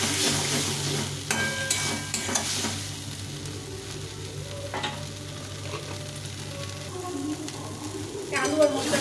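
Spices with Kashmiri chili powder sauté in a pan for a shol fish curry, a continuous sizzle and hiss with occasional stirring scrapes, close and steady, under a low hum.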